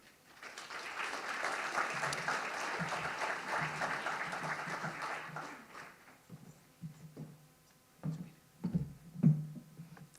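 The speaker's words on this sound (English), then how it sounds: "Please join me in giving a warm and enthusiastic round of applause as we welcome to the stage" Audience applause at an awards event welcoming a speaker to the stage, a dense round of clapping that fades out around six seconds, followed by a voice starting to talk.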